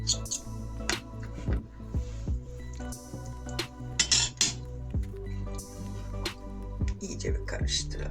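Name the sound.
stirring honey and cocoa face mask in bowl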